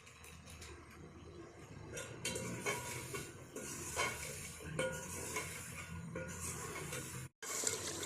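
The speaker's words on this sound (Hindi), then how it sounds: "मसाला हमारा भुन चुका है।" Rice masala frying in a pot while a spoon stirs it, making continuous scraping and clinking over a steady sizzle, close and fairly loud, with a brief dropout near the end.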